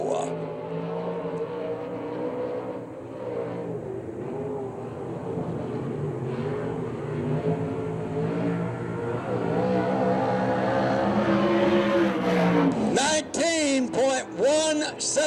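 A USAC/CRA sprint car with a J&J chassis and Donovan Ott engine laps the track at Phoenix, a steady loud engine drone rising and shifting in pitch, with a commentator talking over it throughout.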